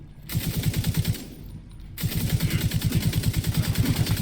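Loud automatic gunfire from The Division 2 comes in two rapid bursts of evenly spaced shots with a brief pause between them, close and dominant with no talk.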